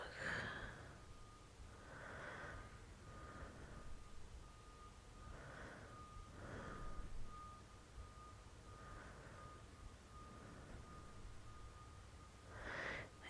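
Garbage truck reversing beeps repeat steadily at roughly one-second intervals, faint and distant against a quiet background, with a thin constant tone running underneath.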